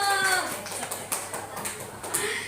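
A group of students clap their hands in a classroom, with several sharp, uneven claps close by and voices in the background.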